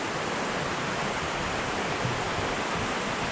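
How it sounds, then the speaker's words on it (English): Toccoa River rushing below a swinging bridge near Blue Ridge, Georgia, shallow on one side and deep on the other, a steady, dense wash of flowing water with no break. "The river's really shallow on this side."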